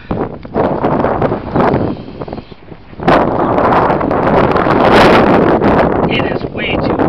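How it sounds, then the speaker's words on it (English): Strong outdoor wind roars and buffets the microphone in heavy, uneven gusts at a flying field during a failed maiden flight, briefly easing midway before surging loud again, with faint scattered rustling near the end. "It is way too windy."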